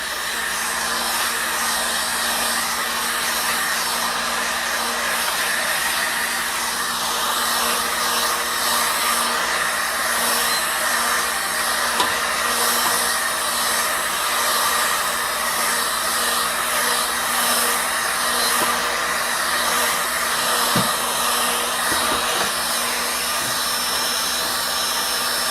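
A hot air blower runs in a steady, continuous whoosh while heating a PS4 motherboard, close and fairly loud with no break.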